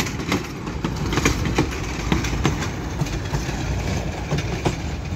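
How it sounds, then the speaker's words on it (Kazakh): A tram rolls along with a steady rumble and rhythmic clacks of wheels over rail joints, continuous and fairly close. "Менә сезгә трамвай матур күрсәтәм дә."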